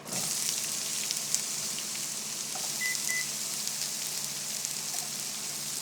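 Chopped vegetables sizzle steadily in a pan of sesame and canola oil, a continuous close hiss and crackle with no pauses or talk.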